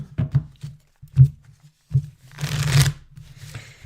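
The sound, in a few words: shuffling cards for a card reading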